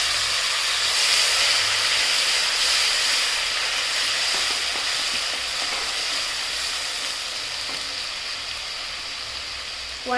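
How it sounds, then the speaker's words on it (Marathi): Chopped onion frying in butter with cumin seeds in a pan, a steady loud broadband sizzle and hiss that slowly eases over time, with no talking. "कांदा घालून घ्यायचा."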